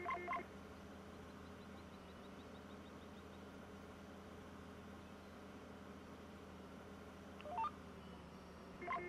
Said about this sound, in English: that's the Green Star sound we got in our tractor and stuff